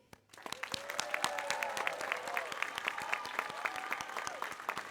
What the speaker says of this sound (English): So I would like to give a huge round of applause to my city's Events and Recognition Committee.